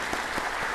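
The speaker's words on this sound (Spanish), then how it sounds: "Un aplauso para él" Audience applause greets a speaker at a climate-change lecture, a brief burst of steady, dense clapping from a seated crowd.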